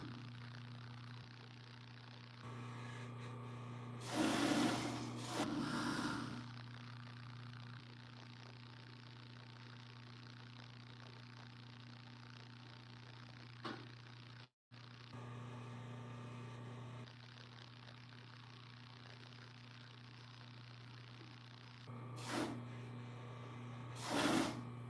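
A sewing machine stitches shorts with a steady mechanical hum. Brief louder rattling bursts break in now and then, and the machine stops for a moment partway through.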